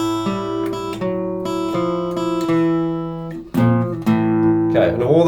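Guitar playing a simple blues turnaround in D, a short sequence of plucked notes and chords ringing out clearly and close, alone without talk.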